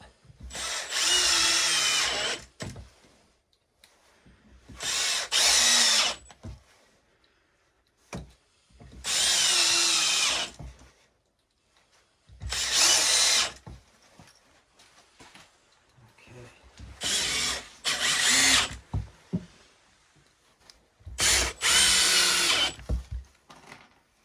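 A power drill drives screws into a kayak and canoe storage rack in six separate loud whirring bursts of a few seconds each, with quiet pauses between them.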